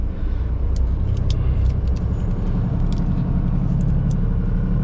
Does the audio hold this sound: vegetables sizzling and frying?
no